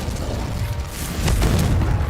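Confringo fire-blast spell cast in Hogwarts Legacy, a deep booming burst that swells over a dense rumbling low end and holds loud and close for about two seconds.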